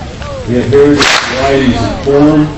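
A 30-foot bullwhip gives one sharp, loud crack at a performance, while people talk and laugh around it before and after.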